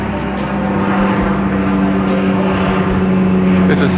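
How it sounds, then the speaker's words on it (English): Near a city waterfront, a propeller seaplane drones loudly and steadily overhead for the whole stretch, under faint background bustle and a few light clicks. "There's a seaplane."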